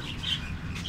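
Parrots chirp and tweet, moderately loud and steady, with a couple of brighter calls standing out over a low background hum.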